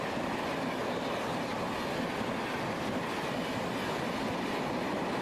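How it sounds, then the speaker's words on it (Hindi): Ajmer to Sealdah superfast express train passing by on its long route from Rajasthan to West Bengal, a steady, loud continuous rail roar with rumbling wheels and faint clickety-clack, heard alone. "ये तो कोई राजस्थानी लगती है, नहीं, अजमेर से सिल्दा की सुपर फास्ट एक्सप्रेस।"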